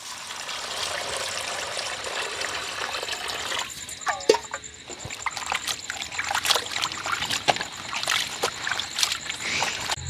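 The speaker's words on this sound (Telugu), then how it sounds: "మంచి నీళ్ళు పోసి బాగా కడుక్కున్నాం" Water trickles and splashes over raw prawns being rinsed clean in a bowl, a steady close pouring and sloshing with scattered splatters throughout.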